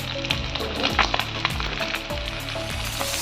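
Fish pieces frying in a pan, a dense crackling sizzle up close with occasional spatula scrapes and small pops over a few seconds.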